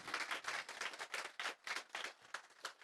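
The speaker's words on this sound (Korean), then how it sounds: "아주 멋진 퍼포먼스를 보여주신 우리 이준영 마술사님께 다시 한번 큰 박수 부탁드리겠습니다" Audience claps for a magician's performance at a March 1st commemorative photo concert, a loose, rhythmic burst of hands clapping in uneven pulses, fairly faint and heard on its own.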